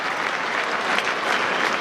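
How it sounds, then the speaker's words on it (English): Polite, steady applause from Melbourne members standing in the stands at an AFL match against Fremantle, a dense, even patter of clapping that holds at the same level throughout without cheering. "It's a polite golf crowd-like applause"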